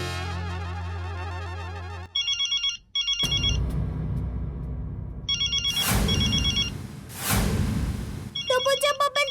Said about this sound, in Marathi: टपूच्या पप्पांचा फोन आहे. फोन उचला